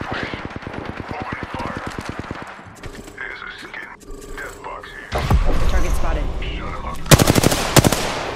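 Rapid bursts of video game gunfire in a battle royale match, a fast automatic rattle at the start, then louder, closer volleys and sharp shots near the end, with scattered game sound effects in between.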